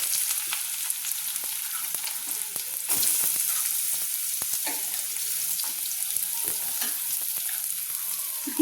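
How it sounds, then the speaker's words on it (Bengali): Chopped carrots frying in hot oil in a pan, a continuous bright sizzle with occasional clinks and stirring knocks, close and alone without talk. "যেহেতু গাজরগুলো একটু সেদ্ধ হতে দেরি হয় সেহেতু আমি গাজরগুলো আগে দিয়ে আমি প্রায় হাফ মিনিট মতো ভেজে নিচ্ছি"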